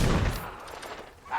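Gunfire from the shooting gallery in the Xbox game Fable 2 opens with a loud, sharp burst of shots, then trails off into a quieter ringing tail.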